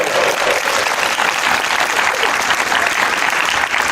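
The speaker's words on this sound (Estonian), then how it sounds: "Teeme suure aplausi ja soovime naiskonna edu." Loud, dense applause from a crowd at a women's football festival honouring the women's team, continuous clapping filling the whole stretch with no speech over it.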